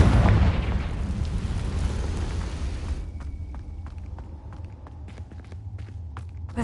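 A Confringo blasting spell explodes in a video game: a loud, broad burst that rolls on for about three seconds, then fades into quieter ambience with scattered small clicks.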